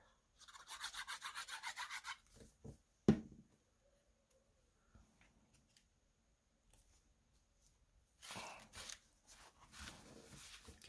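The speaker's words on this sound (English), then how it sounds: "Give it a good burnish." Glued cardstock corners, stuck down with glitter glue, being burnished by hand: scratchy rasping rubs in a steady run of quick strokes, then a sharp tap, a quiet stretch, and another short burst of rubbing near the end.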